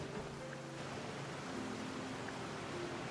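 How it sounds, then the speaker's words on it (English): Steady rain falling in the video game Genshin Impact, a soft even hiss with faint tonal background music underneath and no talking. "I love listening to the rain."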